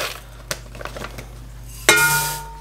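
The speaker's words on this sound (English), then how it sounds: "to start, we're gonna add 2 cups of lentils" Two cups of dry lentils are poured into a cooking pot, with a few light clinks and taps followed by a sudden rattling rush of the grains hitting the pot, close and fairly loud.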